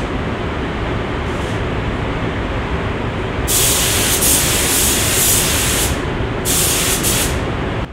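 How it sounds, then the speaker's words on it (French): Spray gun applying primer to a Ferrari F430 inside a paint booth, a steady broadband hiss in two long bursts over constant booth ventilation noise, with no talking. "Désolé pour le bruit ambiant, mais on est en cabine et puis l'application fait du bruit."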